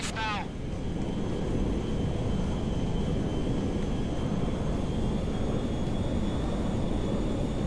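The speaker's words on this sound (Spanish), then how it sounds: "It's kind of reckless flying that big plane so low" A large cargo jet flying low in GTA V, a steady loud engine roar with a faint high whine running through it, continuous for several seconds after a brief chirp at the start.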